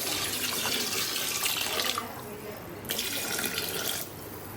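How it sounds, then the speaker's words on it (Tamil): Water gushes from a tap into a cooking pot for a Sunday biryani, running in a steady stream, briefly cutting off and then pouring again, fairly close with faint background voices. "தண்ணி ஊற்ற போவேன்."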